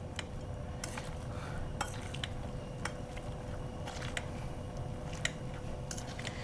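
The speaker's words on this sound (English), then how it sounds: "We're gonna smash our carrots." Braised carrots being smashed in a pot for a short rib sauce, soft squishing and intermittent clinks of a utensil against the pot over a low steady hum, fairly quiet and close, with no talking.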